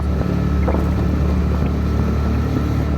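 Steady engine drone from a TVS Apache RTR motorcycle being ridden, mixed with constant rushing wind noise on the microphone, continuous and fairly loud.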